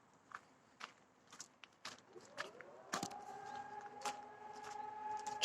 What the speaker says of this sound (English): It's like a siren everywhere.